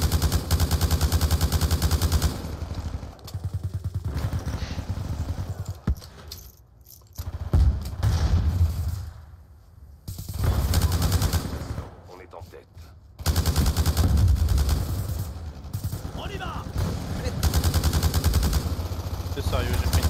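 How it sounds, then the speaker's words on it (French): Bursts of automatic machine gun fire in Call of Duty: Black Ops II multiplayer, rapid clattering volleys coming in several loud stretches with brief lulls between, mixed with other game noise. "Y'a un mec qui défouille avec sa batteuse"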